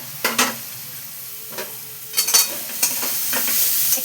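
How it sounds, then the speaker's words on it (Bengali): Chopped garlic, ginger and green chilli frying in a pan for egg akuri, with close spatula scrapes and stirring clatter over a soft, rising sizzle. "এইবার এতে দেখো এই যে রসুন কুচোনো, একটু আদা কুচোনো, আর একটু কাঁচা লঙ্কা, এটা আমি দিয়ে এবার ভাজতে থাকবো।"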